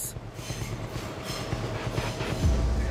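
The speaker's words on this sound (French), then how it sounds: "James et David pénètrent dans un dédale de voies, de trains et de signaux" A train rolls through a maze of tracks and signals in Australia with rhythmic clickety-clack wheel beats and rumbling, a brief squeal rising near the end.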